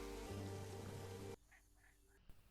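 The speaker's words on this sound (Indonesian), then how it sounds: "Ketika itu, langit berwarna hitam. Hujan pun turun." Rain pours down in a dark-skied film scene, a loud dense wash for just over a second before cutting abruptly to near quiet, where faint voices and a brief knock follow.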